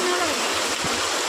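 A steady downpour of night rain keeps up a loud, continuous rush with some splashing of water nearby, with brief low murmurs that may be a voice.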